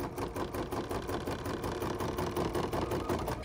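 An embroidery machine stitches a basting box around fabric held on a pre-hoop, its needle running in a fast, steady mechanical chatter throughout.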